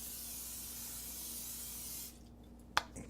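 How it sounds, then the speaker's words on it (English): A continuous hissing cooking-spray can sprays into a heated pan for about two seconds, then stops, followed by a faint sizzle and a sharp click. "you would spray the can in the pan"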